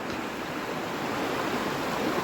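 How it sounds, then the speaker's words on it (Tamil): Water flowing steadily across a 34-acre hillside estate with lemon and pepper vines in Bodi, Theni district, heard as a continuous broadband rush like a stream or small cascade, fairly close and even throughout with no talk. "பாருங்கள் தண்ணியை எப்படி போகுதுன்னு."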